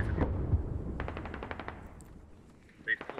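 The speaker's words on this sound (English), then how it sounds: "Rom's gonna fire back." Automatic gunfire is traded in the tactical shooter Squad, coming as rapid rattling bursts at moderate distance with a short sharp burst near the end.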